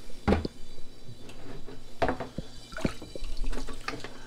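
Water pumped from one drum into another for an aquarium and sump system, heard as splashing, dripping liquid with a few louder gushes and quieter trickling in between, close by with no talk.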